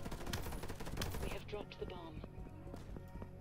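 Rapid gunfire in a Roblox shooting game, a dense stream of shots for about a second and a half, then sparser single reports, with game sounds and faint voices underneath.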